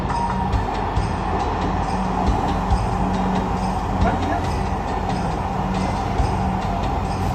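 A Dhaka Metro Rail train runs along the track between Uttara and Agargaon, giving a loud, steady rumble with regular light clicks of wheels over rail joints, heard from on board with faint voices underneath.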